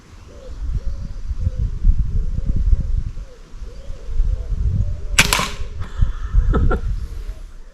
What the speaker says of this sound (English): the little 177 lead balls, and you can shoot it